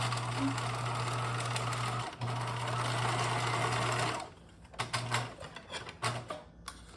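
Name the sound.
sewing machine stitching a mock French seam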